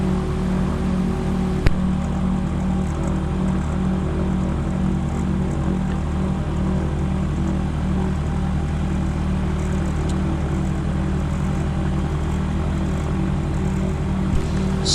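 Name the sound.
gyroplane engine and propeller while taxiing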